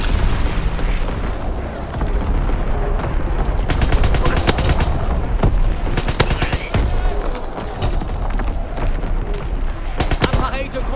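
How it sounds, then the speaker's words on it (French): Enemy artillery and gunfire in the war shooter Call of Duty: WWII during a hardcore team deathmatch, a loud, continuous barrage of shots and booming blasts with rapid bursts throughout. "Tir d'artillerie ennemi."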